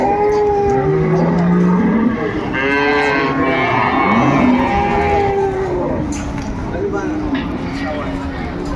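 A Sahiwal cow with her calf lows loudly at the Aftabganj cattle market in Dinajpur, the deep moos rising and falling under nearby talking voices and market bustle.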